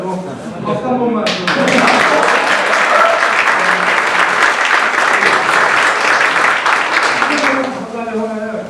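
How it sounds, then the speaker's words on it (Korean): An audience at a startup weekend final pitch event gives a burst of loud, dense applause lasting several seconds, with a presenter speaking briefly before and after it. "박수 한 번만"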